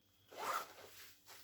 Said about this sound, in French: petite fermeture éclair.